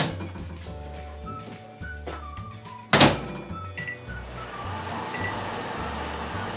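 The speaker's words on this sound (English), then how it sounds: "I'll put it in the microwave like this for like a minute or two" A microwave oven door shuts with a single sharp thunk partway through, followed by the steady hum of the running microwave and faint beeps.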